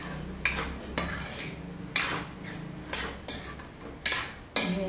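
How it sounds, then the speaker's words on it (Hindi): A utensil stirs green peas curry in a metal pan, making repeated sharp clinks and scrapes about once a second, close and clear. "मिक्स कर लेते हैं।"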